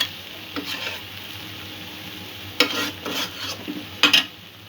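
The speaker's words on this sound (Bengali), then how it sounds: "আরও কিছুক্ষণ পাক দেব ডালটা।" A spoon stirs chana dal in a pan with a few scraping, sizzling passes, short bursts separated by quieter stretches, close and fairly soft.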